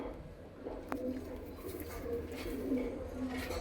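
Pigeons coo softly and repeatedly amid a loft of birds, a low murmuring bubbling behind steady background noise, with brief faint voices; breeds include Punjabi Malwai and chatri types.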